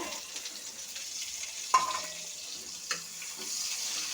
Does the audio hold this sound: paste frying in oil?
yes